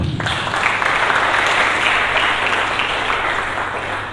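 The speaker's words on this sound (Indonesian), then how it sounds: "Berikan tepuk tangan." Church congregation applauding during a Sunday sermon, a dense, steady wash of many hands clapping close and loud for about four seconds, with no voices over it.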